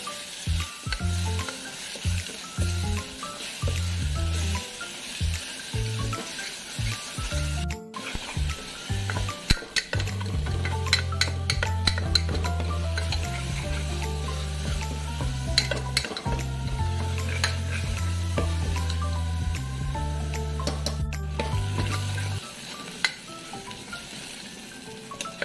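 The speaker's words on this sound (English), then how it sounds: "For green chilies, onion paste roasted well." Onion paste fries in a pan for an Andhra-style chicken curry, a steady sizzle under repeated scraping and clinking stirs of a spoon against the pan, close and continuous.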